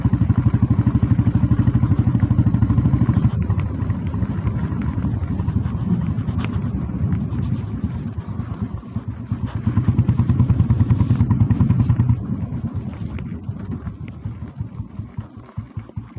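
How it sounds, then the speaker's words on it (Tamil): Old red Royal Enfield Bullet Deluxe idling at low speed, its steady thumping single-cylinder beat close and loud, settling slightly toward the end with no talking. "வண்டி பீட் கேளுங்க, ஸ்லோ ஸ்பீட் பீட்டு."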